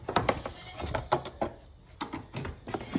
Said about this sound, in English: Going to start off with the goats.